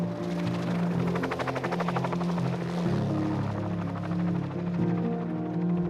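A helicopter used to capture bighorn sheep, its rotor chopping steadily and loudly throughout, a dense rhythmic thumping with a whining engine drone that shifts slightly in pitch midway.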